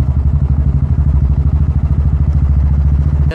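Royal Enfield Classic 350 single-cylinder engine thumping steadily while riding at modest morning speed, a loud, continuous low rhythmic pulse close to the mic with no talk over it.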